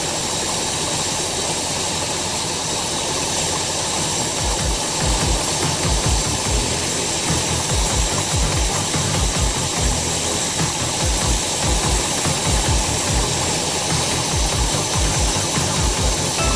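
A 1966 Ford engine idles steadily on a hot day with the air conditioning and blower fan running on full, a constant loud mechanical rumble and whir with rhythmic low pulses, no voices.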